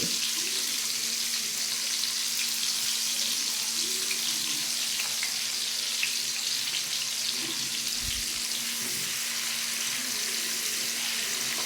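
Onions fry in a pan for a fish curry, making a continuous bright hiss and sizzle at an even level for the whole stretch, with no speech.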